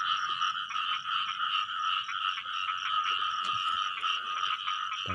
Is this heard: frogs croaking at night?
yes